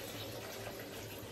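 Water poured into a container for making lemon juice in a home kitchen, a steady, soft continuous gush from start to end without speech.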